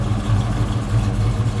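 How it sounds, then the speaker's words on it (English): A car engine fitted with a billet carburetor idles at about 900 RPM with a low, steady rumble and a slight rhythmic pulse, close by and fairly loud, with no talking. "we're idling at about 900 RPM"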